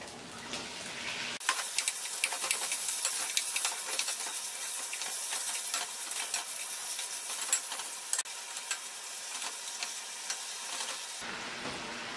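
Pork frying in a pan with garlic, a steady loud sizzle and hiss that starts abruptly and continues with bursts of crackling, then cuts off.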